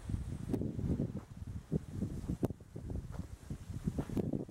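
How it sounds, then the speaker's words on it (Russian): Gusty autumn wind on a hillside potato field buffets and rumbles against the microphone, low and uneven, with a few soft rustles and clicks. "Ветер уже дует."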